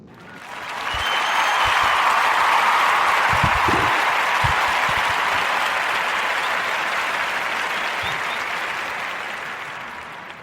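Listeners break into a round of applause that swells quickly, holds dense and steady for several seconds, then gradually tapers off, with a few low thumps near the start.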